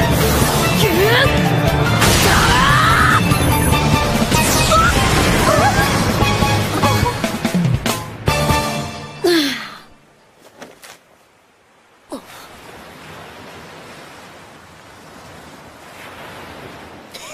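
Anime special-move wave effect, the Tsunami Boost from Inazuma Eleven: a loud, dense rush of surging water and crashing surf for about nine seconds, then a sudden drop to quieter hiss and faint wind-like noise with a brief burst midway.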